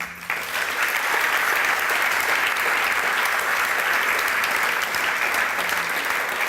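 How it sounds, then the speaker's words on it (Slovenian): A large audience breaks into loud, sustained applause at the Taste Slovenia gala dinner and awards ceremony, a steady, dense roar of clapping that rises quickly and holds evenly throughout. "predvsem pa takoj na začetku en velik aplavz"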